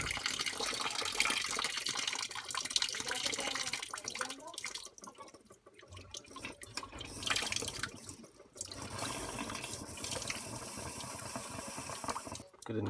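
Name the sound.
water draining from Vaillant boiler shunt pump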